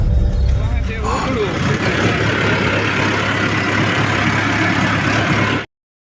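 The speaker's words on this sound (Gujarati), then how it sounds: "ટ્રેક્ટર લઈને જઈએ છીએ આપણે રેવલ કરવા" A Mahindra tractor engine runs with a loud, steady low rumble heard from close by on the way to a farm field, while someone talks over it, before the sound cuts off abruptly.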